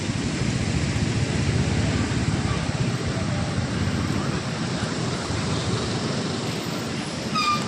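Waves roll onto RK Beach in Vizag at night, a steady loud wash of surf with crowd murmur and distant voices mixed in, continuous throughout.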